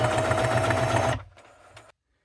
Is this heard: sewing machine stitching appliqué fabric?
yes